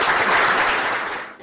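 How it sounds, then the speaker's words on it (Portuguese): Brief burst of applause from a church audience at a chapel restoration event, dense clapping that tapers off within about a second and a half. "Uma salva de palmas."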